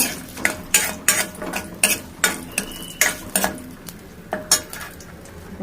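Whole spices, including nutmeg, frying for vegetable biryani while a metal spoon stirs and knocks against the pot. Sharp, regular clanks repeat about twice a second, close and fairly loud, with no voices.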